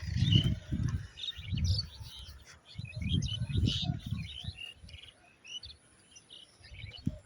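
Birds call and chirp outdoors in a quiet semi-rural area on the edge of Dhaka, where red-wattled lapwings take flight; repeated bird calls, with a few lower louder bursts, sound at moderate distance, with no talking.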